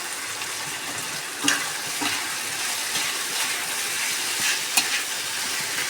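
Flattened rice (chira) frying in hot oil for chirer polau, with a continuous loud sizzle and crackle and the occasional scrape and knock of a spatula stirring close by in the pan.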